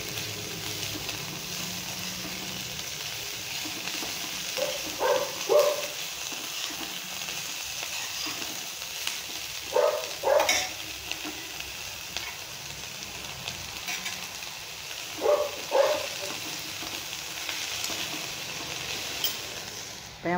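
Spinach stirred with a spoon in a frying pan while making Kerala cheera thoran, a soft continuous sizzle with three short bursts of scraping clatter spaced several seconds apart, close and moderately quiet, with no one speaking.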